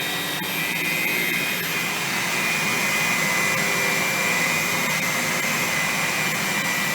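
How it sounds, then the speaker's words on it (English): An Electrolux upright vacuum runs with its brush roll on, giving a loud, constant whining roar. The sound stays close and unchanging from start to end, with no voices. "Definitely a lot more quiet of a brush roll motor."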